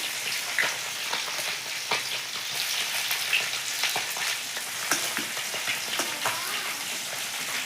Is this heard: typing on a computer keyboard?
no